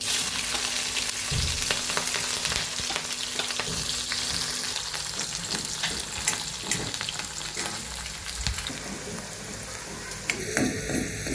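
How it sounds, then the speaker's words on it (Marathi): Cumin, green chilies and garlic hit hot oil with a loud, continuous sizzle. Crackles and spatters run through it and a faint utensil clink comes near the end, with no talking. "जिरे, मिरची आणि लसूण घालून घेणार आहे."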